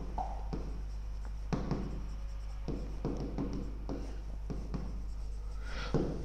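Marker or chalk writing on a classroom board: repeated scratchy strokes in short bursts, close and fairly clear over a steady low hum, with no voices.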